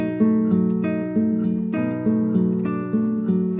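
A clean guitar plays a short melodic phrase, plucked notes ringing over each other at a moderate pace, close and clear with no speech.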